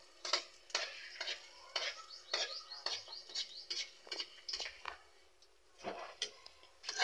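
Ube and coconut being stirred in a cooking pot, with repeated scraping and knocking strokes of a spoon against the pot in an irregular rhythm, fairly close, with no talking.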